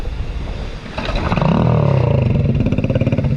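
A washed motorcycle's engine cranks and catches about a second in, then settles into a loud, steady, throbbing idle with a pulsing rhythm, close by.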